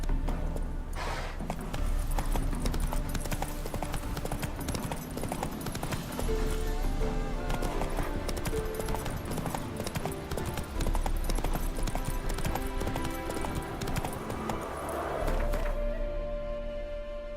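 Hooves beat in a rapid, steady clip-clop as a horse gallops in The Witcher 3, with a neigh along the way, layered under game music.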